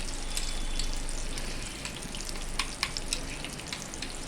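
Tomatoes fry in a pan with a busy, continuous sizzle and crackle, a few sharper pops rising near the end, heard up close with no talking.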